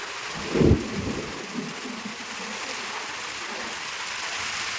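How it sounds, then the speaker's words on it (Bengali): Heavy rain pours steadily throughout, with a deep thunder rumble near the start that fades into continuous downpour noise. "এত বৃষ্টি ভিতরে ভিজে ভিজে চলে আসছে দেখো"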